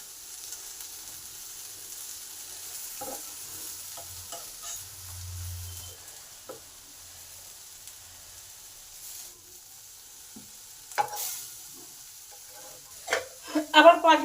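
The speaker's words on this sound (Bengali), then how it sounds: "বেগুনগুলোকে উল্টে পাল্টে দু সাইডটাই লাল লাল করে নেব।" Brinjal pieces frying in a pan with winter spring onions and peas, a low sizzle with scattered scraping and stirring taps as the slices are flipped, a few sharper clatters near the end.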